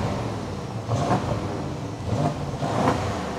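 A BMW 750i twin-turbo V8 with its muffler deleted revs three times through the exhaust, each a short rise over a deep, steady idle rumble, moderately loud and nearby.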